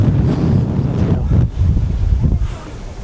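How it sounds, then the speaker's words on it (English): Strong wind buffets an exposed rock summit reached by metal steps at Sri Lanka's famous rock site, roaring steadily and loudly with deep gusting rumbles across the whole stretch, no voices. "The wind is picking up now."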